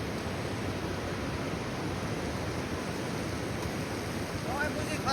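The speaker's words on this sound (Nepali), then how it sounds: "खतरा पानी परिरहेको छ" Heavy rain falls as a dense, steady roar of broadband noise that stays constant throughout, with a faint voice near the end.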